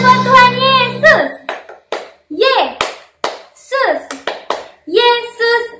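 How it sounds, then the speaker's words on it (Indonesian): Children clapping hands during a Sunday school worship service at a Batak Protestant church in Tangerang, a few sharp claps scattered between bursts of sung or chanted children's voices, near and loud, in uneven groups. "Tepuk tangan buat Tuhan Yesus"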